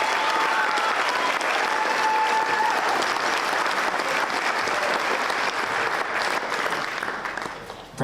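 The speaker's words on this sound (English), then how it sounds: "Can we give another big round of applause for our music boosters and Miss Mandy Carson?" Sustained applause from a school spring band concert audience, a dense even roar of clapping that holds steady for most of the stretch before tapering off near the end.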